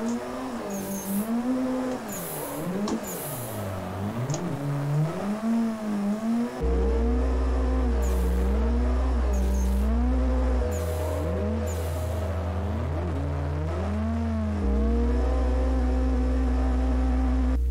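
A drift car in the Assetto Corsa racing game swings into a backwards entry, the engine revving up and down in loud rising and falling sweeps, tyres squealing alongside, without speech.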